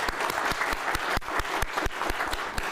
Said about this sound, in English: just by putting your hands together and clapping for this very excellent panel